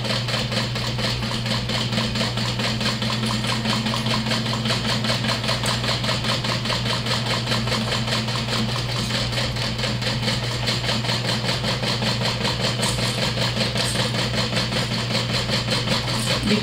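A sewing machine stitching down a front pocket through several fabric layers, a continuous fast mechanical whirr and hum with even, rapid needle rhythm held steady from start to finish.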